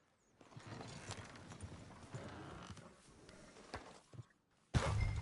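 Horse hooves clip-clop in Red Dead Redemption 2, a run of uneven clopping steps at moderate distance that stops briefly before a sudden louder burst of noise near the end.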